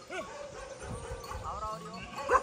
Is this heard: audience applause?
no